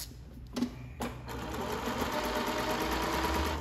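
A Consew industrial sewing machine runs with a quiet, steady whir after a couple of soft clicks, its stitching hum continuing evenly to the end.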